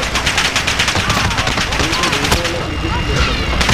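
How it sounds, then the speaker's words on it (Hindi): Rapid automatic gunfire in a Call of Duty multiplayer match, loud and continuous bursts close to the player, with a voice talking over the shooting. "ये कहां से मुझे गोलियां आ रही हैं"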